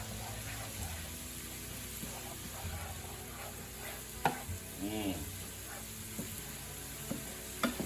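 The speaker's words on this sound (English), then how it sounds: "I'm going to give that a good stir." Crushed garlic stirred in a hot pan, a quiet continuous sizzle with soft scraping strokes and a couple of sharper clinks, close by.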